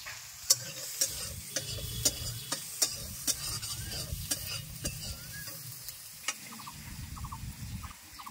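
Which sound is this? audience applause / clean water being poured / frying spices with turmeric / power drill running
frying spices with turmeric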